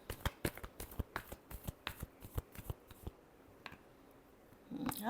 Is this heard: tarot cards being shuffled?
yes